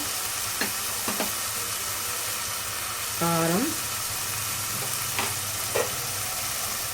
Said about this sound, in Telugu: మష్రూమ్లో నీళ్ళని ఇనికిపోయి ఇలా నూనె పైకి తేలే వరకు ఉడికించుకోవాలి.